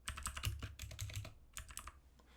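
Quiet clusters of keystrokes clatter on a computer keyboard, two quick bursts of typing separated by a brief pause, close and soft.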